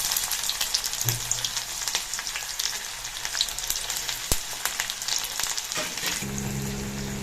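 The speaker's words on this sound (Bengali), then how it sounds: "আমি হালকা একটু ভেজে নিচ্ছি, গোল্ডেন ব্রাউন করবো না" Cumin and chopped onion frying in hot mustard oil, a steady loud sizzle with crackling pops throughout and a brief stir or clink near the end.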